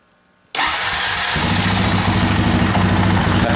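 A Honda Rancher 350 ATV engine bursts into life on choke after a quiet moment, settling into a loud, steady, slightly uneven cold idle with strong low rumble.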